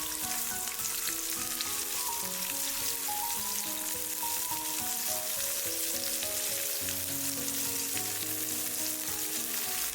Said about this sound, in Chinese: 锅留底油，下入蒜片、线椒，